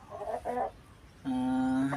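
Heritage chickens cluck and squawk nearby, two short calls followed by a longer drawn-out cackle, over a faint background hiss.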